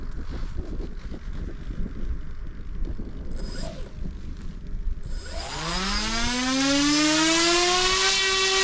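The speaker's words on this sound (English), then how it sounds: "So first let's test the propeller." A small propeller motor on a 3D-printed model airplane spins up with a rising whine that climbs in pitch and settles into a steady loud buzz over wind noise.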